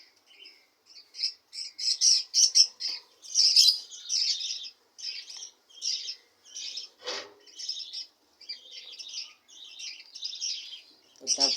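Diamond doves in a breeding enclosure give repeated soft cooing and chirping calls in short phrases, close and fairly clear, with a brief rustle partway through.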